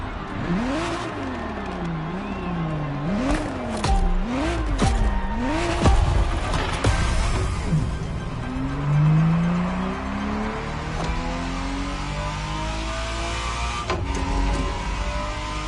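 A Ferrari Testarossa in The Crew revs its engine up and down in rising and falling sweeps, then pulls away through the gears with a brief squeal of tires, steady and close.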